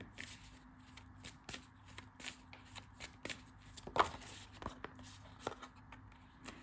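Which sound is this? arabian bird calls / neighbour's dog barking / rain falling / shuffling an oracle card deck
shuffling an oracle card deck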